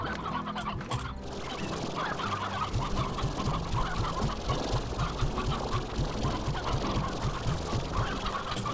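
Chickens in the video game Slime Rancher cluck continuously in a busy flock, a loud, close chorus of overlapping clucks against steady game ambience, with no talking.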